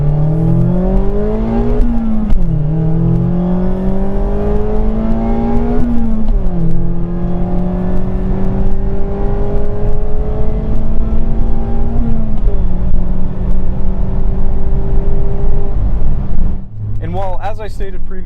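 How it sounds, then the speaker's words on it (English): A 2022 Mazda MX-5 Miata Club (ND2) engine hums steadily while driving, its pitch climbing through gears with brief dips at each shift, loud and close, with a voice talking over it. "This really is a lovely car to drive."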